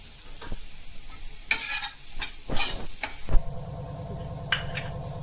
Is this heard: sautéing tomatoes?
yes